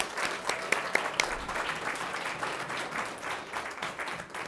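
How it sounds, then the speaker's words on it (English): Moderate applause from family, friends and teachers at a school board meeting, a sustained patter of many hands clapping with a few sharper individual claps standing out, fairly even throughout. "Let's give everyone a round of applause."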